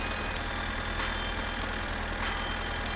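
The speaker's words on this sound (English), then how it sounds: "The tractor in my summer car." A tractor engine in the driving game My Summer Car runs in a steady, dense drone, with faint rhythmic pulses over the constant mechanical roar and no voices.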